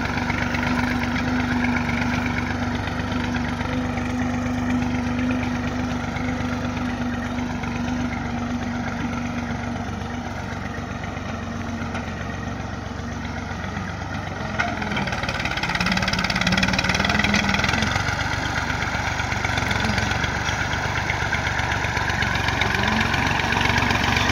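A Massey Ferguson 240 tractor pulling a seeder drill while sowing wheat, its engine droning steadily and loudly up close, with a faint rattle of machinery and a slight rise in intensity partway through.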